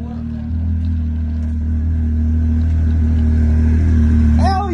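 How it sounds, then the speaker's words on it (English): A 998 turbo snowmobile engine running near a lake, a steady loud mid-pitched drone that holds without letup and builds slightly toward the end. "I hear a 998 turbo going"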